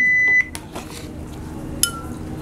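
A countdown timer for a pani puri eating challenge sounds a loud steady electronic beep at the start, cutting off abruptly, followed by a quieter room with faint clatter and a short chirp.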